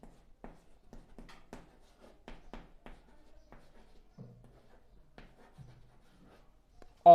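Chalk or a marker scratches and taps on a board during a physics lesson, a quiet series of irregular short strokes and ticks with a faint low murmur at moments.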